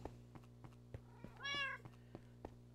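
Cats in Minecraft give a clear, close meow midway, set against a quiet steady hum and a series of soft regular thumps ticking through the background.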